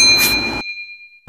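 A single bright notification bell ding rings out close and loud, then fades and cuts to silence, with a small click at the very end.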